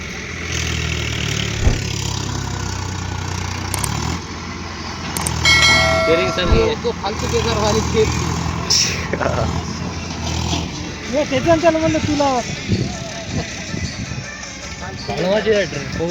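A JCB excavator and a tractor run steadily while digging earthworks in a lake bed, with loud continuous engine rumble and clanking throughout and people talking over it at intervals.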